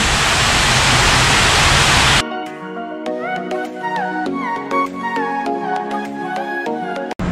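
A garden waterfall beside an iconic Houston building pours as a loud, steady broadband rush for about two seconds, then cuts off as music with clear melodic notes takes over for the rest.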